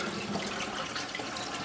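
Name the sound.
water flowing into a chamber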